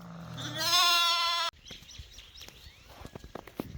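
Sheep and rams on a farm give one long, loud, wavering bleat that breaks off abruptly, followed by quieter scattered farmyard knocks and rustles.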